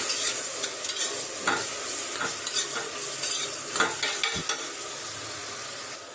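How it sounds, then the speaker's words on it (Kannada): Onions frying for biryani in a pan, a steady crackling sizzle with intermittent stirring scrapes and clinks throughout, close and continuous with no voices. "ನೋಡ್ರಿ ಫ್ರೆಂಡ್ಸ್ ಈರುಳ್ಳಿ ಎಲ್ಲ ಮಸ್ತ್ ಹಂಗೆ ಫ್ರೈ ಆಗಾಕತೈತ್ರಿ."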